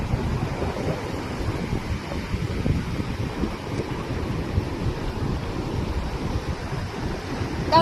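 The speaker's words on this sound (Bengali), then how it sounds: "দাঁড়াও, ঢেউটা আসছে কি সুন্দর।" Sea waves on a Goa beach roll in as a continuous broad rushing wash, close and fairly loud, mixed with wind buffeting on the microphone, with no talking.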